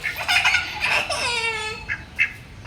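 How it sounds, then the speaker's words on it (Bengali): Ducks being fed give a run of nasal quacks and honks close by, several short calls in quick succession followed by a couple of softer ones. "ওই দেখো বোন হাঁসকে খাবার দিচ্ছে"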